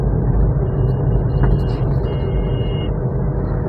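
A car in fourth gear at 50 km/h in city traffic gives a steady low engine and road rumble, continuous and even from inside the cabin, with faint hiss above.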